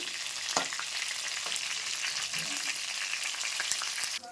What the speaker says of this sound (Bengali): তোমরা দেখতে পাচ্ছ যে কেমন মাছ ফুটছে